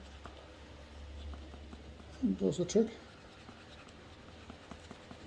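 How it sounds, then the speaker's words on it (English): Scissors edge rubbing flat the cut edge of a Star Wars Mandalorian quick-draw holster: a short burst of quick scratchy strokes, close and fairly quiet, between bits of talk. "I'm just going along and just flattening that sort of cut off edge with the edge of my scissors here"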